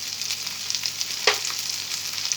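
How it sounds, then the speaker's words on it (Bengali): Chopped green chillies fry in a pan of capsicum and sauces, giving a steady close sizzle with a brief louder spatter near the middle and no voices. "কাঁচা লঙ্কা কুচিটা দেব,"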